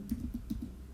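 Quick keystrokes on a computer keyboard, about five soft clicks in an even burst, close and clear with no voice over them.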